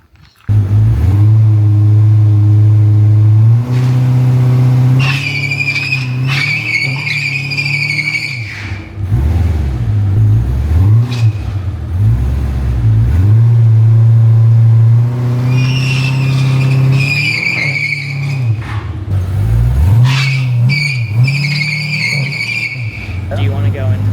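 A car doing a shed skid, stalled up against the brakes then floored: loud, close engine revs climb and fall in repeated bursts, with squealing wheelspin and tyre screech over a constant rumble.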